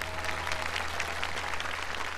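Audience applause at a televised Chinese-style music performance show, a steady wash of many hands clapping from a studio crowd, sustained and even throughout with no voices over it.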